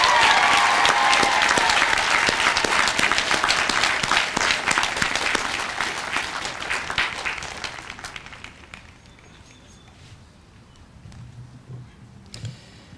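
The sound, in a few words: audience applause for doctoral recipients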